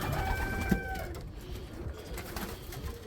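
Racing pigeons in a loft, among them a smoky blue bar, pied birds and a blue check, give soft low coos and bird calls over a steady background rustle.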